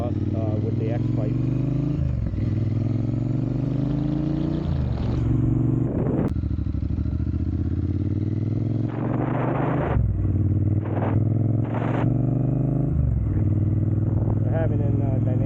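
A 2022 Triumph Bonneville Speedmaster fitted with a Dr. Jekill & Mr. Hyde exhaust rumbles and revs nearby, its deep engine note rising and falling through repeated throttle blips over several seconds.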